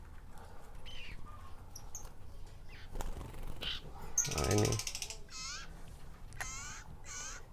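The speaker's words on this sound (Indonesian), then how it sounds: "cara menjinakkan burung kecil, khususnya burung perenjak merah seperti ini." A small tame red prenjak songbird gives short, bright chirps and quick rising and falling whistled calls, with a louder burst of rustling near the middle and someone talking throughout.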